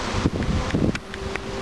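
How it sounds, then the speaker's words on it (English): Gusty outdoor wind buffets the microphone in a steady low roar with brief rustling surges, close and fairly loud throughout. "I know, it's really windy today."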